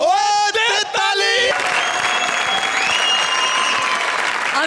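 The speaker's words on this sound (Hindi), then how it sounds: "ओ दे ताली!" Loud, steady audience applause on a comedy show stage, rising out of a brief shouted musical bit and continuing densely to the end with crowd noise mixed in.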